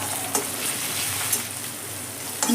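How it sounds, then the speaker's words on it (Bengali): Thinly sliced ginger fries in a pan with a constant close sizzle, broken by a few soft clinks of stirring. "হালকা করে আদাটাও আমি ফ্রাই করে নিলাম"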